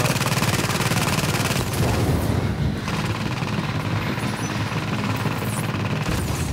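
Automated turrets firing in Tom Clancy's The Division video game, a loud, rapid, continuous rattle of machine-gun fire with dense overlapping shots and a few heavier thuds, sustained throughout.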